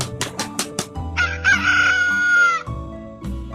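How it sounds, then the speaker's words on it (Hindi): A rooster crows loudly and up close, with a long drawn-out call, after a few sharp percussive hits and alongside music in the background. "उस दिन से मुर्गी का आवाज सुनते ही शेर के चेहरे पर मुस्कान आता था"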